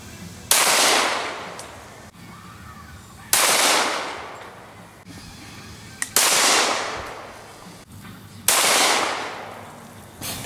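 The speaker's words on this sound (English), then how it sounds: "We're going to move into the Hornady Critical Defense 165 FTX, shooting it with a Glock 23." Four loud, sharp gunshots from a Glock 23 pistol chambered in .40 firing Hornady Critical Defense 165 grain FTX rounds, spaced a few seconds apart, each with a long ringing decay, at close range.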